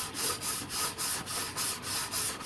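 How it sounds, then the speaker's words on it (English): A brush sweeps sawdust off teak wood on a boat in quick, regular back-and-forth strokes, about three per second, each a close bristly rasp that repeats steadily throughout without any voices. "clean this by taking a brush or something to get rid of the sawdust"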